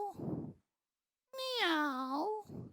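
A person imitates a cat's meow, two short voiced calls framing one long rising-and-falling meow with clear harmonics, close and fairly soft, separated by brief silence.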